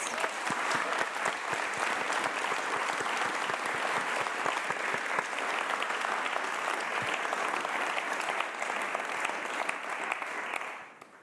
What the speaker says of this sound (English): Can I ask for one more round of applause for both Ben and Anthony, please?